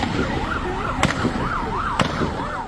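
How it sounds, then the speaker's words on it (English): Gunfire during a shooting in a grocery store parking lot in Fordyce: two sharp, loud bangs about a second apart cut through a wailing siren that rises and falls throughout. "Listen to the sound of gunfire as the nightmare unfolds."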